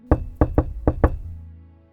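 Five sharp knocks on a door tap out the Yale sound logo rhythm, uneven in spacing and close, with a faint ringing tail after the last knock.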